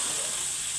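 Chicken fries in a pan with tomatoes, green chillies and spices for restaurant-style aloo gosht, a steady close hiss and sizzle without pause.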